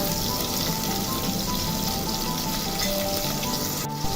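Garlic and ginger paste fry in a pan with chicken gizzards and liver, giving a dense, continuous close sizzle that stays loud throughout, with no talk.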